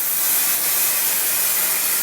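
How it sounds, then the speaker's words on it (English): Hairspray sprays onto hair in one continuous aerosol hiss, close and fairly loud, lasting about two seconds without a pause. "you shouldn't be spraying your hair this particular way"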